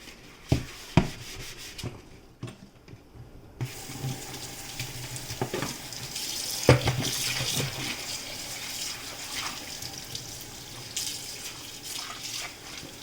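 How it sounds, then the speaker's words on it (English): Tap water runs steadily into a kitchen sink during washing up after cooking, opening with a few sharp clinks of dishes and pots before the flow settles into a constant splashing rush. "We wash out our sink."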